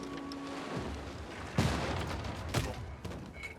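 Attack fired at an enemy knight in the strategy game Civilization 6, a couple of booming game impacts over a dense rumbling battle bed, moderately loud.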